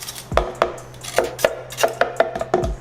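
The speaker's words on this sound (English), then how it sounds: "we're going to scrape this here into" Ginger puree is scraped from a container into a blender, giving a run of sharp, irregular taps and knocks close by, with no talking.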